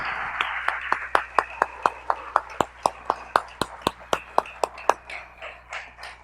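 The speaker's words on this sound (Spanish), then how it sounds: "Yo quiero que les demos un aplauso a Mauricio y a Tere." A small group claps in a sparse, uneven patter of distinct sharp claps at a community gathering, with near claps standing out before they thin out and fade.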